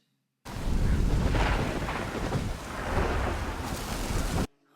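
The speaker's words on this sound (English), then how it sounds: "The storm might be making him on edge." Stormy weather in a House of the Dragon scene, a steady loud roar of wind, rain and rumbling that surges and eases for several seconds, then cuts off abruptly.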